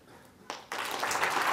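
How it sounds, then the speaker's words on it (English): Conference audience clapping on request during a talk on scaling distributed teams: a quiet start, a brief burst, then steady, building applause from a standing crowd filling the room. "So a small request that if you can clap for just 3 seconds."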